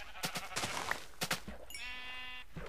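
Sheep in Minecraft bleating, with a long wavering bleat in the second half, mixed with short bursts of combat hits and movement sounds earlier in the clip.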